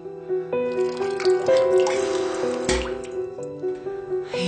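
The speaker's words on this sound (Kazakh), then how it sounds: "Мен қазір шай құйып келем." Tea is poured into a cup at home, heard as a thin trickle and scattered drips beneath steady background music.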